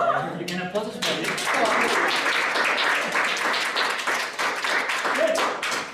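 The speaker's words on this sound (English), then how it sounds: "You can applause us for it." A card magic workshop audience breaks into dense, sustained clapping that holds at an even, loud level for several seconds.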